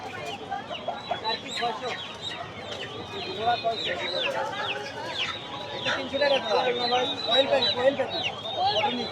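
Chickens cluck and squawk in repeated bursts at a rural poultry market in Tongi, Bangladesh, with a busy crowd murmuring and people talking around them throughout.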